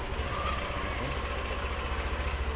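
A Yamaha NMAX V2 scooter engine runs steadily close by, a continuous buzzing idle with a fine rapid pulse and no voices.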